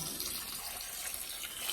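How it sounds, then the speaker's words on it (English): About a gallon and a half of water is poured evenly into an egg incubation box for a ball python clutch, a steady, soft, close splashing trickle that continues without a break. "I got this, which is about a gallon and a half of water. And I just kind of pour that evenly"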